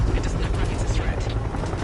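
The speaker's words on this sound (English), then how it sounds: "Helicopter inbound." Helicopter in the video game Bravo Team approaching with a loud, rapid rotor chop and low engine rumble, close and steady throughout.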